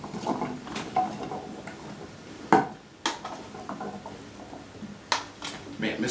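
Sausage and roasted root vegetables stirred in a pan, giving soft scraping and clinking knocks at an irregular rhythm over a faint sizzle, with a voice talking now and then.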